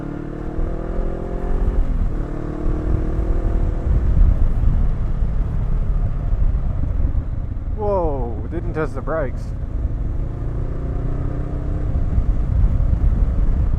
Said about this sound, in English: the engine on this thing's got a fair bit of pull.